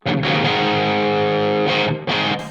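Electric guitar played through a heavy Marshall amp model on a NUX Solid Studio Mk II modeller, loud distorted sustained chords with a couple of sharp re-strums near the end, close and alone.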